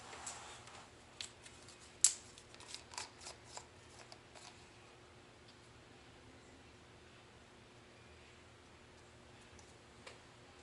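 Fine material snipped with scissors while tying a custom trout lure: a quick cluster of small, faint clicking snips near the start, then mostly quiet room tone with one last tick.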